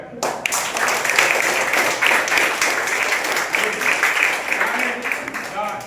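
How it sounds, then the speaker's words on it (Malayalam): Many children's hands clapping together in a dense, steady patter, a group applauding for several seconds at a children's camp, with voices mixed in. "കയ്യടിക്കുന്നു കാണട്ടെ."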